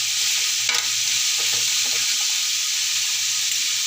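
Chopped onions fry in a pan over low heat, giving a constant close sizzle broken by a few light stirring knocks, with no talking.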